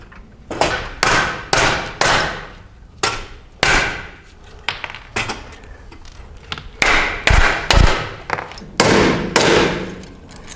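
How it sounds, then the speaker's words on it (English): A framing hammer strikes the crumpled fender of a Jeep XJ (1984-2001 Cherokee) again and again in an uneven rhythm of loud, close metallic whacks, some heavy thuds among them. "That's a hammer, and this is a framing hammer."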